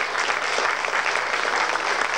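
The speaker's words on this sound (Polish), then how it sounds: "ale wielkie brawa dla nich" Warm, continuous applause from an audience at a family music festival award ceremony in Tczew, 1998, even and sustained with no voices on top.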